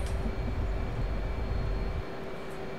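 F/A-18C jet roaring on takeoff in the DCS flight simulator, a loud, broad engine rumble with a steady tone that drops slightly near the end.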